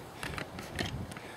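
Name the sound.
AGM MP40 airsoft gun upper and lower being separated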